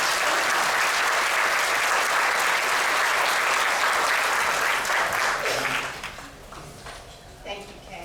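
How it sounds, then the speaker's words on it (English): Sustained audience applause fills the room for several seconds, then fades out to quiet murmurs and a brief voice. "please give these employees a round of applause for their service"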